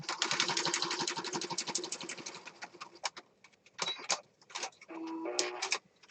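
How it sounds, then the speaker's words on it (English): A sewing machine stitches around the corner of a junk journal page in bursts of rapid, buzzing needle strokes, pausing and restarting several times, close and fairly quiet with no talk. "put the needle down, raise my pressure foot, rotate this around, put it back down again, and then sew"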